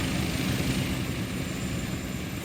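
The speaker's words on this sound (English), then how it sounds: "Hopefully I'm not being drowned out by the helicopter." Loud, steady Westland Scout or Wasp helicopter rotor and engine noise in a flight simulator, a dense continuous roar with no talking.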